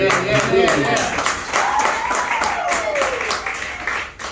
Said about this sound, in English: let's give a round of applause for everybody who's been on stage